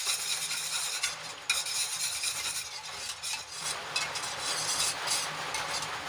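A spoon stirs curd steadily into milk in a bowl to set homemade dahi. The scraping and swirling stays close and fairly even throughout, with faint clinks against the vessel and no voices.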